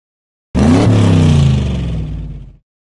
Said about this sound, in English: Jump on the table to avoid toy cars.